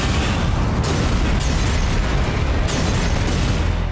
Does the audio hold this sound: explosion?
yes